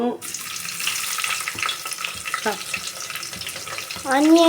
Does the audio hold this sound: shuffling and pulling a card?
no